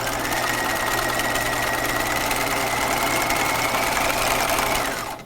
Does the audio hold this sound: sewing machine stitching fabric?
yes